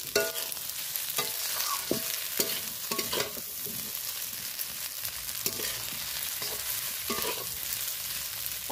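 Semolina fries in a pan with curry leaves in the tempering, giving a constant hissing sizzle broken by repeated scraping stirs of a spoon, close and fairly loud.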